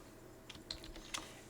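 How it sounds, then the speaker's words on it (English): Several soft key presses on a computer keyboard, irregular and sparse, heard faint and close in a quiet room with no speech. "as I'm typing,"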